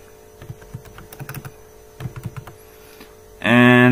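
Keystrokes on a computer keyboard come in two quick bursts of several taps each, close and fairly crisp over a steady mains hum, ending in a sudden loud tonal buzz.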